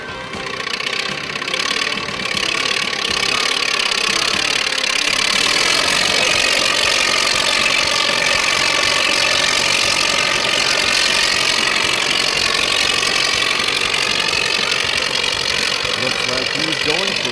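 An antique Minneapolis Moline Model Z tractor with a 16 horsepower engine runs hard at a county fair tractor pull, a loud, sustained mechanical drone with steady knocking that sits close and unbroken throughout.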